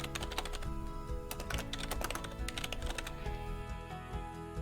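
Rapid typing on a computer keyboard, with dense clattering key presses that run steadily and close up, without any talk.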